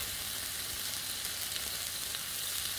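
Tri tip steak searing on a hot griddle gives a dense, even hiss that stays steady and close throughout.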